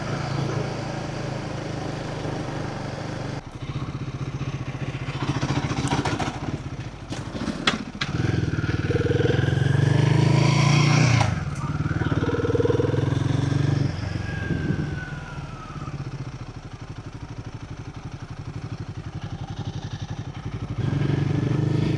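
A Royal Enfield Goan 350 motorcycle engine drones steadily while being ridden, with wind rush and the revs rising and falling through the ride, loud and close with no talk.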